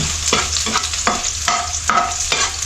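Garlic and ginger sauté in a hot pan for adobong puso ng saging, a steady sizzle broken by repeated scraping strokes of a spatula, close and fairly loud with no talking.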